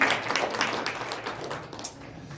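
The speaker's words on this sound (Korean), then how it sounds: "다시 한번 하나님께 영광을 경외의 박수 하도록 하겠습니다." Congregation applauding at a Methodist church Christmas Day service, a short burst of clapping that starts fairly strong and thins out as it fades, with no talk over it.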